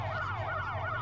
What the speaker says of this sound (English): they're putting the sirens on and stealing police Vics.